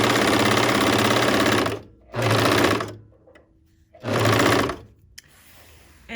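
A bernette 64 serger sewing a four-thread overlock stitch on skirt fabric runs in three loud, steady bursts, each a couple of seconds long, separated by short pauses with faint handling noise.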